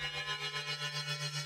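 A synth bass patch with FM on the phase amount, a bandpass filter and reverb driven by one macro, buzzing steadily with a rhythmic pulsing wobble and no voices.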